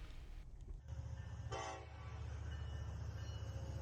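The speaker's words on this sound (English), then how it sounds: "at the worst possible moment, a train is approaching" A train approaches on railroad tracks with a steady low rumble, and a short horn blast sounds from a distance partway through.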